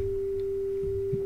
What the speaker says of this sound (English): This is a triangle wave.